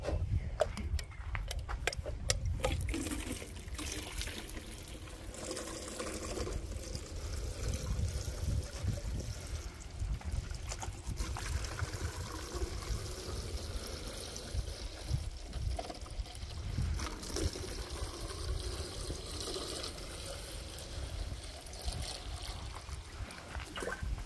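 Water runs steadily into tanks being filled to a set level, a continuous trickling, pouring wash that stays fairly even throughout, with a few brief louder splashes early on and no speech.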